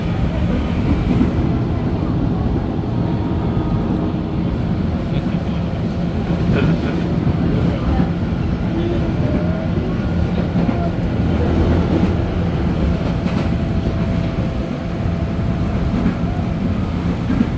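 Passenger train running between Maja and Citeras stations in Indonesia, heard as a loud, continuous rumble with rhythmic rail clatter throughout.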